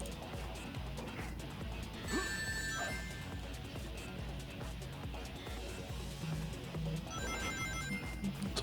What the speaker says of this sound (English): Someone got a text message.